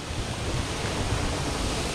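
Steady rushing water flows near an old mill in Painswick in the Cotswolds, a continuous broadband wash with no speech over it.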